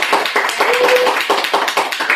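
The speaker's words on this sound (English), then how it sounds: "I just want to give you a round of applause" An audience claps in a round of applause at a live presentation, a steady patter of many hands at close range, fairly loud with no talk over it.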